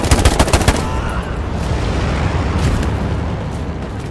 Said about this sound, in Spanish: escucho los disparos.